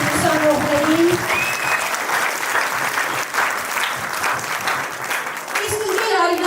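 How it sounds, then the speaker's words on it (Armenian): A room full of people applauds students at a family gathering, producing a dense, sustained wash of clapping throughout, with a voice briefly audible at the start and again near the end. "ծափահարենք առաջին դեպքին ուսանողներին"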